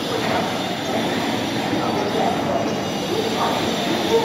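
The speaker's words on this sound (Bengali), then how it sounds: "দেখুন সামনে একটি ট্রেন রয়েছে।" A train stands at a railway station platform in Balasore, with a steady broadband rumble and hiss of rail noise throughout, continuous and fairly close, with faint voices mixed in.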